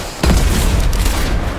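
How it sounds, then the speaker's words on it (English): Gunfire in the video game Fortnite, a sudden loud boom that cuts in sharply and then rumbles on and fades slowly. "Oh, somebody shot at me."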